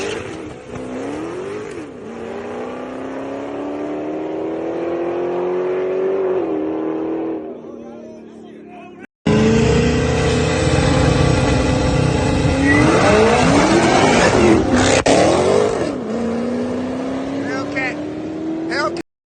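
Twin-turbo Coyote car and Hellcat Charger dig race from a standing launch, engines revving hard and roaring with rising pitch, then a louder, closer pass with tire noise. A cut splits the clip and voices are audible under the engines.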